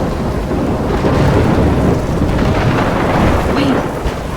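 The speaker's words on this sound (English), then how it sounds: "I'm trapped in a storm?" A thunderstorm in Life is Strange Remastered rumbles loudly with heavy rain, deep rolling thunder swelling and fading under a constant downpour.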